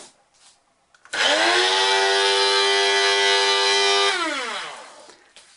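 A Clarus electric coffee grinder whirs up sharply into a loud, high motor whine, runs steadily for about three seconds, then spins down, heard on its own in a quiet kitchen.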